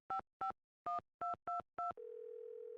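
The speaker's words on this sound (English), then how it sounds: "Let's try to call her on this phone because she's not answering at the work phone" A telephone in the Nancy Drew game Secret of the Scarlet Hand: six crisp dialing beeps in an uneven rhythm, then a steady, continuous tone, clean and close with no voices.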